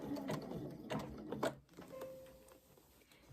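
Sewing machine stitching an appliqué flower onto fabric, with a short burst of rapid mechanical needle chatter that soon slows and fades, close but fairly quiet, no voices.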